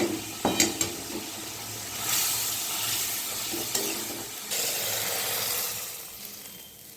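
Bhola fish sizzling and frying in hot oil with spices in a pan, a steady close hiss swelling and easing as the pieces are stirred, with a few sharp clatters of utensils near the start.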